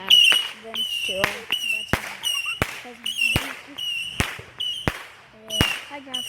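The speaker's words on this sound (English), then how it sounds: "my two cousins are making their own firework out of dynamite and some other fireworks" Homemade firework built from dynamite and other fireworks, set off outdoors: a rapid series of sharp, loud cracks and pops, with crackling bursts and whistling shrieks between them, repeating across the whole stretch.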